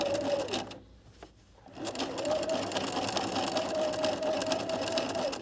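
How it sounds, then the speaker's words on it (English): A sewing machine runs a zigzag stitch down a fabric edge to overlock it, a steady whirring drone that pauses briefly, then resumes and continues evenly to the end. "we're going to do the zigzag stitch all the way down, and we're going to overlock our edges"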